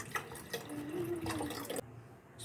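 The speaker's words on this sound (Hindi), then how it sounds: "केतली में पानी ले लेता हूँ" Tap water runs into a kettle in a home kitchen, a faint, continuous trickling and splashing with a rising tone as it fills, then cuts off abruptly, leaving quiet background.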